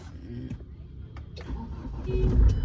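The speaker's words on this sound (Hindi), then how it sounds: "तो अभी कोल्ड स्टार्ट करके देखते हैं गाड़ी कितना क्रैंक लेती है" Car cold-started on a foggy morning, the starter cranking briefly before the engine catches and rumbles to life, growing louder toward the end, with a voice murmuring faintly in the background.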